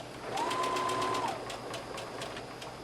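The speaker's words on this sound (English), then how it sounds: "We're going to just do a straight stitch right along here, and this is called basting." A sewing machine bastes a straight stitch on an A-line dress, a faint, quick run of even mechanical ticks with a soft motor whine that eases off after about a second.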